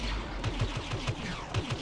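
Rapid gunfire in the Star Wars Battlefront video game, a fast rhythmic burst of repeated shots over a busy battle background, steady and fairly loud throughout.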